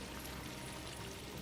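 Water pours steadily into a village well in Final Fantasy XVI, a continuous close splashing stream with no talk over it.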